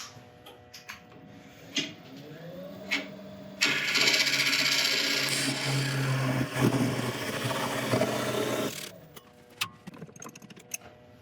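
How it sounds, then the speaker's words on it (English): Parting tool cutting into a monkey puzzle wood bowl spinning on a lathe, a sustained close scraping hiss lasting several seconds over the motor hum, framed by scattered ticks and knocks. "I think I'll just part this off with a parting tool"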